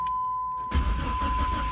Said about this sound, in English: Let's see if the Neon starts.